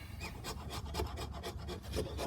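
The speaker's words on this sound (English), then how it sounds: "I'll try and get some shavings off here" Steel knife with a vinegar-patina blade shaving wood for fire starting: a steady series of close, quiet rasping scrapes in a regular rhythm, roughly two per second, with no voices.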